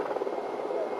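A helicopter during the 1991 Kurdish exodus, carrying refugees over difficult terrain, heard as a steady, moderately loud rotor drone throughout, with no break.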